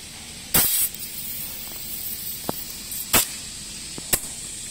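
Short bursts of compressed air hissing from an air compressor hooked up to a syringe labeling machine, a few sharp spurts and clicks over a low background hum, close by.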